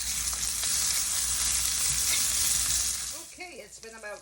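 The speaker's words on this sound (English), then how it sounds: "I'm just gonna flip all my sausage and brown them on the other side for 2 to 3 minutes" Andouille sausage browning in a skillet, a loud continuous sizzle close up as pieces are flipped, fading near the end as a voice begins speaking.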